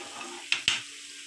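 Food steams and sizzles in a pan with ghee: a soft sizzle punctuated by two sharp hissing bursts in quick succession, close up, with no voices.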